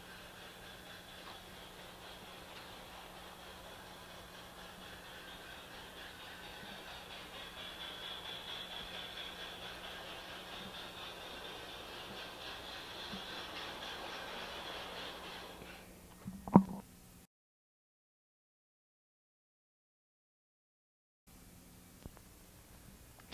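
An LGB garden-scale model train running along a single track under automatic block control, a steady low electric hum with faint rolling rattle throughout, ending in a sharp click before falling silent, then a quiet hum resumes.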